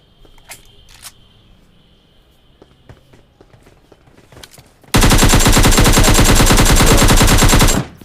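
Rapid automatic gunfire from PUBG Lite on the Golden Wood map bursts in loudly after quiet footsteps and small clicks, hammering in a dense, fast stream for about three seconds before cutting off.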